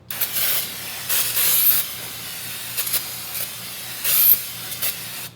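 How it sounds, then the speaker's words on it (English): Brake cleaner sprayed onto the back of a brake rotor on a 2nd-gen Toyota Tacoma: several close, loud bursts of pressurized hissing spray, short and separated by pauses. "You want to take that oil off with brake cleaner so it doesn't glaze your brake pad over."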